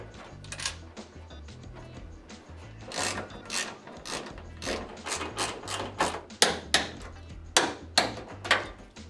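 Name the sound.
ratchet tightening car oil pan bolts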